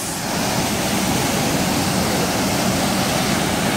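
A strong waterfall on a mountain trek roars steadily and loudly, a dense unbroken wash of falling water filling the whole clip with no voices.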